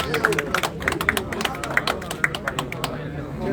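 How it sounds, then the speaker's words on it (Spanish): A small crowd at a rural meeting claps briefly, giving a few seconds of quick, uneven hand claps close by, with voices talking over them. "Un aplauso para el presente"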